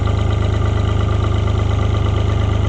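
A Cockshutt 1255 FWA tractor engine runs in gear with a loud, steady diesel chug and a fast even pulse, close by and unbroken, with no voices.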